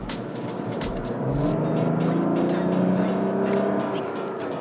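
Six-cylinder diesel engine of a 2023 Mazda CX-60 revving up, a loud rising drone that swells and sustains for a few seconds before easing, with no one speaking over it.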